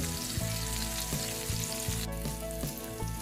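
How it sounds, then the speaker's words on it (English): Pork chops fry in a skillet with a continuous crackling sizzle, close and steady and fairly soft, with a few faint scrapes and no voices. "put the pork chops and make sure that they're brown on both sides"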